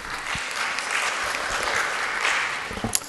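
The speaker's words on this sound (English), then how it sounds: "A round of applause for our first speaker" An audience applauds a speaker at a conference session, a dense, sustained round of clapping from many hands that stays steady throughout and tails off slightly at the end.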